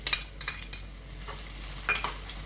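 Finely chopped onion frying in a pan, soft sizzling under a few light scrapes and stirring clatters of a utensil against the pan, quiet and close, with no voices.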